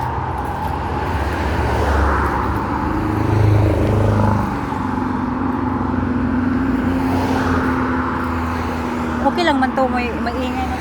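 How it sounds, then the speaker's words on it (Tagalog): Road traffic in a busy, congested street with a loud vehicle rumbling nearby, steady engine and roadway noise throughout, swelling around the middle, while people talk over it. "may maingay na sasakyan mo."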